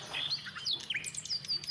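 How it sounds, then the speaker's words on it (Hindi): Birds chirp in the morning in an Indian village, giving a quick series of high, thin tweets and short trills at moderate distance, with no talking. "चिड़िया चहक रही है।"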